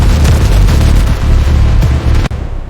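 Artillery fire from the 1965 Pakistan–India war, heavy and loud, with repeated deep booms rolling into one another and a sharp final blast before the rumble thins out.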